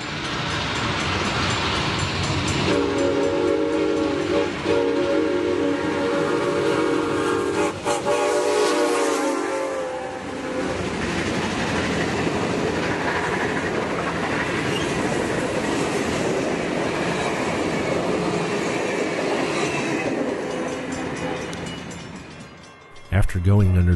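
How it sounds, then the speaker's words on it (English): Santa Fe 3751 steam locomotive hauling a 2012 excursion train to San Bernardino, passing loudly near a freeway with whistle blasts and steady clattering wheels throughout. "special excursion is moving at a good clip as it passes back under the 10 freeway"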